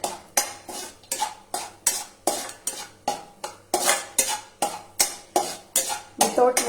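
A spatula scrapes and stirs food frying in a pan over a low flame, a steady run of sharp metallic strokes roughly twice a second, close and clear, with faint sizzling underneath.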